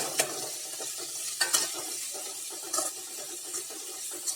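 Ivy gourd fry being stirred in a pan with chili powder, turmeric and salt, a steady soft sizzle broken by scraping spoon strokes against the pan, no talking.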